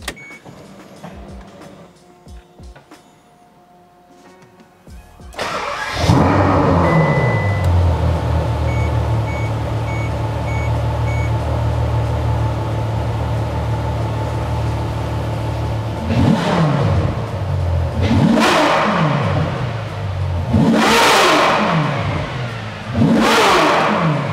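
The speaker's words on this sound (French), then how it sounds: "écouter cette sonorité du V12 Atmo qu'on adore tous" A Ferrari F12 TDF's naturally aspirated V12: a quiet start gives way to a loud engine roar around five seconds in, holding steady before several sharp high revs surge and fall near the end.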